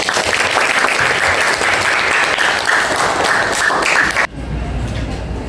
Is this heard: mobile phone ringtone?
no